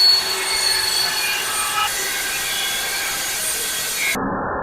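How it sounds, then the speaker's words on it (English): An Evolution metal cutoff chop saw cutting through bolts produces a steady, harsh grinding drone that holds evenly for several seconds before cutting off abruptly, with no speech. "Evolution metal saw. Love this saw."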